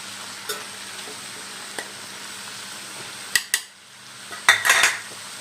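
Stirring beans with onion and coconut in a pot, a few sharp clinks and scrapes of a spoon against metal spaced out over a soft background sizzle, with a cluster of knocks near the end.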